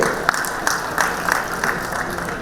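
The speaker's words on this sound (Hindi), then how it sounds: "जोरदार तालियां हो जाए इनके लिए।" Applause fills a mall event hall at an Amar Ujala Samvad gathering. The clapping is fairly loud and continuous, with a few sharper claps rising from the audience noise.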